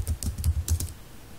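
Close, crisp keystrokes as program code is typed on a computer keyboard, a quick irregular burst of clicks over about a second that stops, leaving quiet room tone.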